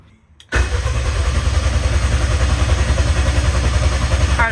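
A K20-powered Honda Civic drag car cranks briefly and fires into a loud, rough, lumpy idle that holds steady and close, with no talking over it.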